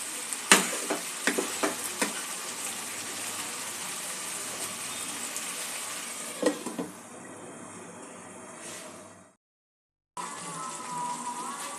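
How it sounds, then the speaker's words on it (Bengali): Chicken masala meat sizzles and frys in a pan while being stirred, with occasional scraping clinks, then the sound drops out briefly before a lighter sizzle returns. "সব উপকরণগুলো মিক্স করে দিয়ে কিছুক্ষণ আমি মাংসটা কষিয়ে নেব।"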